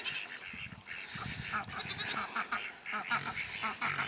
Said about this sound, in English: There's the ducks running around.